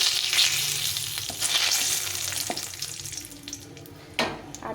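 A dried red chili and a bay leaf sizzle in hot mustard oil, a bright continuous crackle close by, with a few pops and a louder burst near the end.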